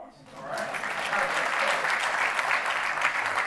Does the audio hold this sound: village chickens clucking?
no